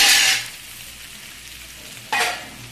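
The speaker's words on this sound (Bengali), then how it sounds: "দেখুন আমার সবজিটা কিন্তু বেশ ভালো করে কষানো হয়ে গিয়েছে" Vegetables for an egg dish sautéing in a pan, two short loud sizzling bursts, one at the start and one near the end, separated by a quieter gap.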